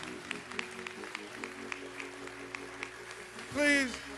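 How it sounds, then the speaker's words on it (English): Scattered clapping from a crowd at a public memorial service, a handful of distinct claps with sustained tones in the background, ending with a short loud voice or shout near the close. "please give his family another round of applause"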